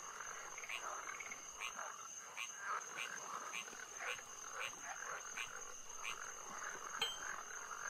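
Frogs croak in the puzzle video game Rusty Lake Paradise, a steady, repeating series of soft croaks over a constant high-pitched ambient hum, quiet and continuous throughout.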